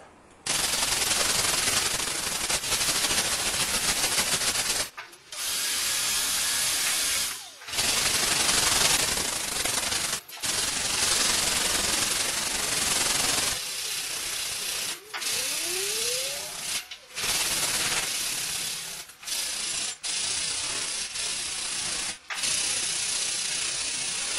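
The hood of a 1959 Chevy pickup truck is sanded by hand in a crosshatch pattern. Long, loud, rasping strokes come in bursts, separated by brief pauses, close up and with no talking.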